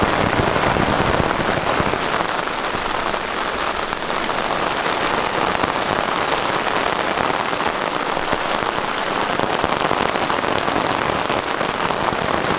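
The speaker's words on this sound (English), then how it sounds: "Nah, but this is scary much rain." Heavy rain pounds a tarp at a hammock camp in a thick, continuous roar of drops, loud and close, with no letup.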